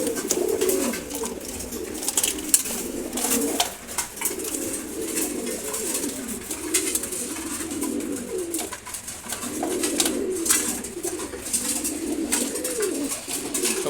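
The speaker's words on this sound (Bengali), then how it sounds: "এটা গিরিবাজ দেখেন ডাকতেছে" A male Giribaz pigeon coos close by in a loft, its low rolling calls repeating in steady waves throughout, with faint scuffles and wing noise from other birds around it.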